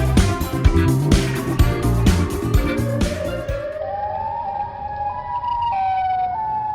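A loud siren wails with rising and falling tones, starting over a clattering background that drops away, leaving the siren sweeping on alone.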